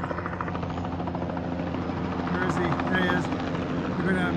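A big Sikorsky S-61 helicopter working a heli-logging job, its rotor beating in a steady, loud, throbbing drone with a droning engine whine underneath, under someone talking throughout.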